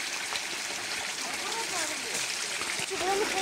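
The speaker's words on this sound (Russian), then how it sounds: "Также еще и мою здесь руки" Water splashes and gurgles as hands are washed in a flowing village stream, a steady close burble with small irregular splashes throughout.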